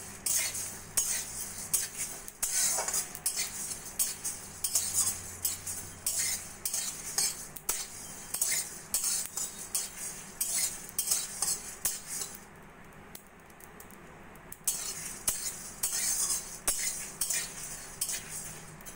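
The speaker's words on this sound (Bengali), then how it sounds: "এইভাবে নাড়া দিয়ে আমি যতক্ষণ না বেশ ভাজা একটা হালকা সুন্দর গন্ধ আসছে ততক্ষণ আমি মশলাটা" Spoon stirring whole coriander, dried chillies and cumin dry-roasting in a pan for mango pickle spice, giving steady close scraping and clinking strokes with a faint low hum beneath, no talking.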